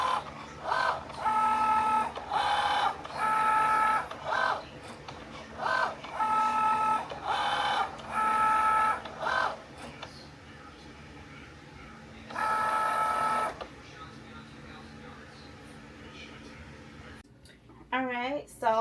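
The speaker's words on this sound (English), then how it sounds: "we're gonna load it onto our Cricut machine here, and it's gonna begin to get it cut" Cricut cutting machine working at home, giving repeated bursts of whirring, beeping motor tones in a regular start-stop rhythm, close and moderately loud, followed by quieter stretches and a brief rustle near the end.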